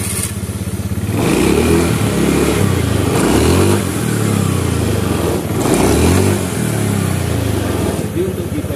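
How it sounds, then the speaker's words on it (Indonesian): Rough-running engine of a Honda Beat FI scooter-type motorcycle that is burning oil and low on it, revving up and down in repeated waves close by, with a person talking over it. "di sini bunyi mesinnya pun agak kasar, dan juga dia sudah mulai makan oli"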